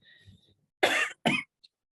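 Two sharp, loud coughs close together, preceded by faint low murmuring and followed by a tiny click.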